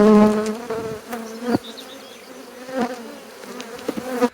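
Honey bees buzzing around an open beehive during a rapeseed nectar flow, their close, droning hum wavering in pitch as individual bees pass near, steady and without talk.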